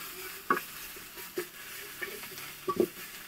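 A chili masala mixture is stirred in a pan with soft, scattered scrapes and light sizzling over a quiet background. No one speaks.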